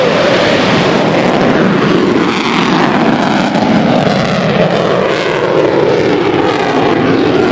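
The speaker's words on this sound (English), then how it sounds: "The F-22 Raptor, the Air Force's most stealthy, maneuverable, and sophisticated fighter" An F-22 Raptor stealth fighter roars through a flight demonstration with a loud, steady broadband jet rumble that holds at full strength from start to finish, its tone sweeping slightly as it passes.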